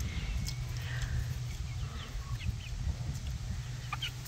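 A chick clucking and pecking at feed in a rural farmyard gives faint, scattered chirps over a steady low rumble of background noise, with no talk.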